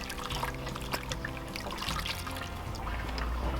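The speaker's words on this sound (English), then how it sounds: "I'm going to dump all this water that we used into the sink. So it's just draining just a wee bit." Used dishwater draining from a small sink in a camper van, a steady close trickling and gurgling of water lasting a few seconds, with a low hum underneath and no talking.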